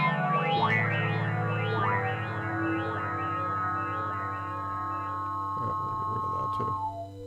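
A touch-sensitive synthesizer plays a short melodic phrase with delay and a little reverb, its echoing notes repeating and trailing off over a sustained low drone, with no talking.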